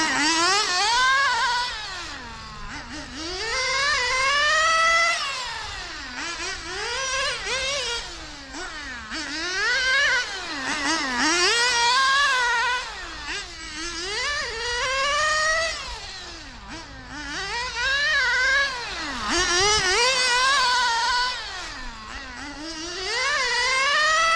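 A nitro RC car driven by an O.S. 15RX engine screams through repeated high-pitched rev cycles, rising and falling as it accelerates and brakes around a track. Loud and continuous, with no speech.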